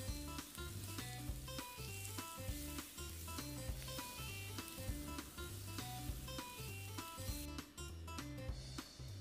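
Chicken pieces fry in boiling oil for homemade KFC-style fried chicken, giving a steady, dense crackling sizzle throughout with small pops and no talk.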